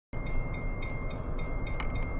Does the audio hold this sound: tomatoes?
no